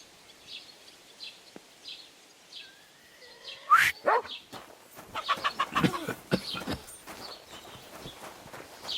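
A dog in the medieval video game Kingdom Come: Deliverance II barks in several short bursts, some yelping, mid-distance, over faint ambient outdoor sounds with birds and footsteps.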